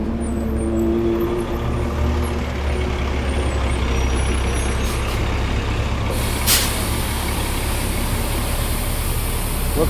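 A city bus idles on a Manhattan street with a steady low engine rumble, and a sharp hiss of released air brakes cuts through near the middle. Traffic noise runs underneath and no one speaks.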